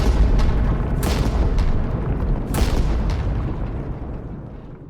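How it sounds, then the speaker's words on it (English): Remaining landmines detonating in an audio drama: a loud, continuous rumble of deep booms with several sharp bursts layered on top, slowly fading out toward the end, with no voices. "Before losing consciousness, I input the code and detonated the remaining mines."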